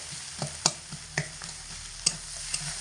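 Hilsa fish head stirred and fried in hot spice paste in a pan: a steady oily sizzle with sharp utensil scrapes and clinks striking at irregular intervals, close and fairly quiet, no voices.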